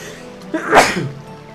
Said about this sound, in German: Oh, muss gleich niesen.